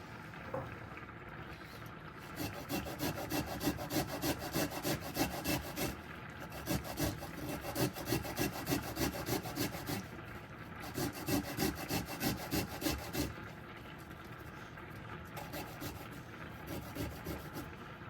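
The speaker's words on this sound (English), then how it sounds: "And then with the grater, you could grate everything." Food rubbed briskly on a hand grater while preparing a Trinidadian jerk fish meal with broccoli rice and salad, giving steady, rhythmic rasping strokes that repeat for most of the stretch, close and fairly loud, with no talking.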